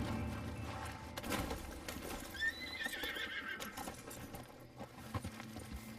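A horse in the Red Dead video game whinnies clearly over a soft clip-clop of hooves, with a faint jingle of tack, fairly close and free of talk.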